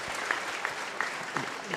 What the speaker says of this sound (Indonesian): Tapi sekali lagi tepuk tangan dong untuk Mas Abrang.